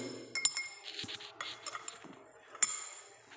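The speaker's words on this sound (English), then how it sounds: "we have to just stir this solution like this" A solution stirred in glassware during a conductometric titration gives soft, quiet scraping with two sharp glassy clinks.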